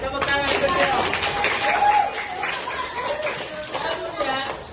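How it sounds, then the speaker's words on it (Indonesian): A classroom of students claps together for a classmate in a religious studies lesson, brisk scattered clapping mixed with children's voices and chatter that carry over the whole stretch. "Tepuk tangan untuk Pio."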